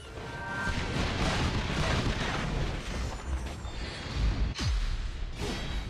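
Turret destruction in the Mobile Legends video game, heard as a loud rumbling, booming crash with a swooshing burst near the end, dense and continuous throughout.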